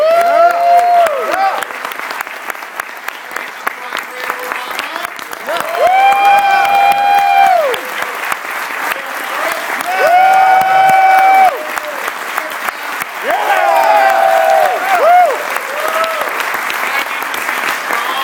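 A crowd at a Justice League: Doom premiere panel breaks into loud, sustained applause with whoops and cheering voices rising over the clapping in several swells.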